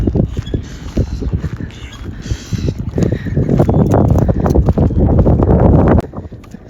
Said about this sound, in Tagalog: Maaraw pero mahangin.